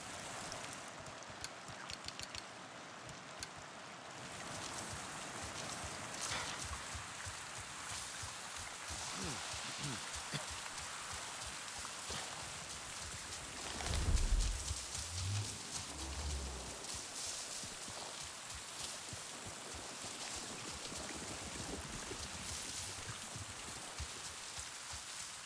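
Steady rain falls in the video game Avatar: Frontiers of Pandora, a constant hissing patter filling the whole scene, with a brief low rumble midway and occasional speech over it.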